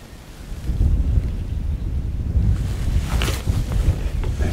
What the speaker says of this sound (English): Oh, that's a strong wind.